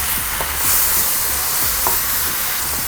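Onion and beef sizzling in a hot wok for Korean japchae noodles, a loud close steady frying hiss with soft scraping stirs of the spatula scattered throughout, no talking.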